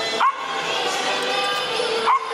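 Two short dog yips stand out over a busy, noisy dog show background, one near the start and one near the end.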